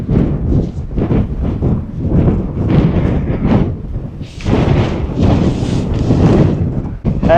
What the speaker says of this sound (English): It is windy, man. I can barely even hold the camera straight.